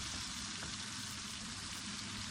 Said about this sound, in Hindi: 2 से 3 मिनट हमने गोश्त को फ्राई कर दिया। अब इसके अंदर छोले डालेंगे।